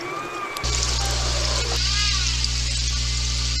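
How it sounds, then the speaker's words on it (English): A steady low engine drone from a boat, with a brief rise and fall in pitch as the motor revs, over a constant background hum. "Sounds from a boat"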